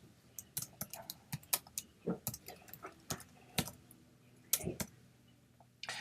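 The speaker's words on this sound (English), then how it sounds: "You can add that person's name simply by typing in their name here." Rapid, uneven keystrokes clack on a computer keyboard, close and fairly crisp, with short pauses between bursts and no talking.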